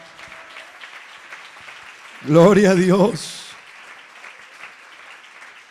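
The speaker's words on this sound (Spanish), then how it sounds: "dele un aplauso al Señor" A church congregation claps with a steady, moderate patter of many hands. Partway through, a voice cries out loudly over the applause for about a second.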